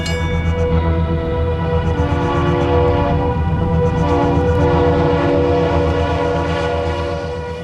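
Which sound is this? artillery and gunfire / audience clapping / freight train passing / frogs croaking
freight train passing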